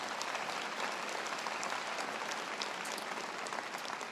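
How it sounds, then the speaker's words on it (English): A large audience at a Mission Serve service event applauds, with steady, even clapping that stays at a moderate distance for the whole stretch. "Please give them a round of applause."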